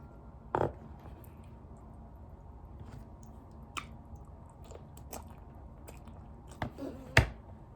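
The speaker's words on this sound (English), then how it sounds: "And he's got me a crunchy carrot." Close, crisp crunching bites and chewing of a crunchy carrot, a handful of sharp crunches spaced irregularly against a quiet background.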